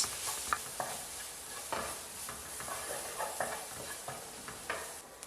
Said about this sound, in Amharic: በደንብ መጥበስ።